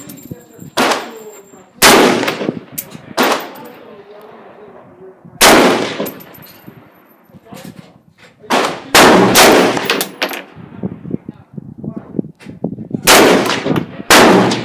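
A Yugoslavian SKS M59/66 rifle fires about ten loud, sharp shots at irregular intervals, some in quick pairs, each with a brief ringing tail, with short quieter gaps between.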